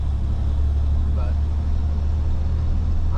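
A 1949 GMC 100 pickup truck driving, its engine and road rumble forming a steady, loud low drone throughout with no pauses.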